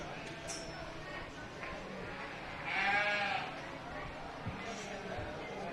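A sheep lets out a single bleat, moderately distant, at a 4-H livestock show as yearling ewes leave the ring, heard over a quiet murmur of crowd talk and an announcer's voice.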